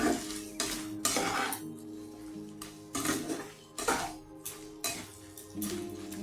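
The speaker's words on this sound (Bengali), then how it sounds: "এখন আমি এটাকে একটু কম হিটে একটু নাড়াচাড়া করে নিই" A metal spoon or spatula stirs whole spices and dried chillies in a pan over low heat, making a series of distinct clanking scrapes roughly every second over a faint sizzle, close by and without talk.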